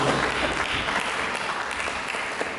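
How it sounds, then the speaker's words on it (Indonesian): Congregation applauding during a church sermon, a steady wash of many hands clapping at an even level for a few seconds, with no voices standing out. "Jadi kita berikan tepuk tangan buat Dia."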